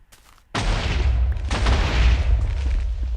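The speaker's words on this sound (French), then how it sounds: "Donc, j'ai explosé avec la TNT." A block of TNT detonates in Minecraft with a sudden loud booming blast followed by a second rumbling explosion and sustained crackling roar, heavy and close, with no voices.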